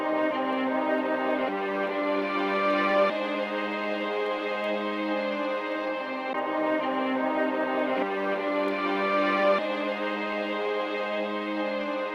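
A sampled verse chop looping on an MPC Live, built from a Netflix Original, with steady sustained harmonic tones and clear section changes about every one and a half seconds, played loud and continuous without voices.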